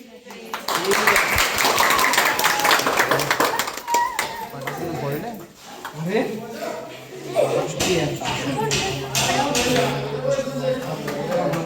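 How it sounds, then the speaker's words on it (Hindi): Several people clap by hand during a Hindu housewarming (griha pravesh) puja at home, bursts of close applause mixed with chatter and children's voices, with talking and chanting around it. "ताली बजाओ सब।"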